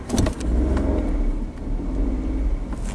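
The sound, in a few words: car engine revving to 2,500 RPM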